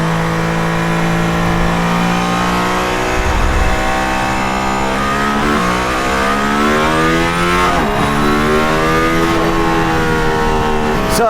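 A loud Mercedes-AMG ONE engine revs continuously on the Nürburgring, its pitch sweeping up through the gears as it accelerates hard, heard from close inside the car.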